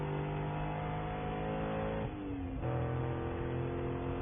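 Race cars circulate at Sonoma Raceway during a Spec Corvette Series race, a steady mid-distance engine drone with a shift in pitch midway as one car changes gear or passes.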